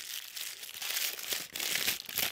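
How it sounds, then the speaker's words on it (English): A disc cut slightly larger than a bowl, prepared for a carrot pudding recipe, is crumpled up by hand with close, crackly rustling in uneven bursts and brief pauses. "Next thing I'm going to do is crumple it up."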